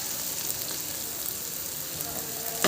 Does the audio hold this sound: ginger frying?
yes